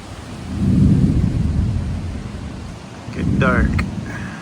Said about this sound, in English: Severe thunderstorms rolling in apparently.